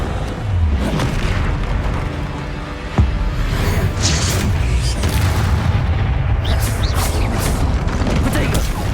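Descendo spell slam in Hogwarts Legacy, a sharp booming impact amid ongoing combat noise, with heavy thuds and whooshing bursts, and a voice speaking at points.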